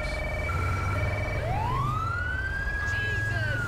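Police car siren from the game GTA 5 with the LSPDFR mod, a loud continuous wail sweeping up and holding a high tone, over steady engine and traffic rumble.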